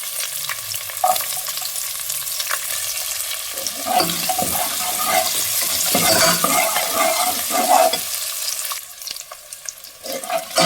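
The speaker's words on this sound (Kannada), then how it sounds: "ಈರುಳ್ಳಿ ಒಗ್ಗರಣೆಗೆ ಹಾಕೋಣ" Chopped onions sizzle steadily in hot oil as a tempering for a gram and greens dish, a loud close frying hiss with bursts of stirring and spattering through the middle.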